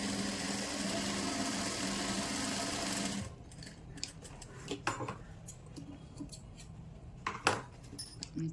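Up close, a sewing machine stitches elastic into a velvet pajama waistband with a steady whirring rattle for about three seconds, then stops, leaving scattered clicks and light handling taps of fabric and parts.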